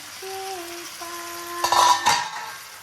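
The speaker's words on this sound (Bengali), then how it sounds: "চিংড়ি দিয়ে ভালো করে একটু কষিয়ে নেব" Large prawns being sautéed with spices in a home kitchen pan, with a couple of clattering metal scrapes of a utensil against the pan following a faint sustained tone and a light background hiss.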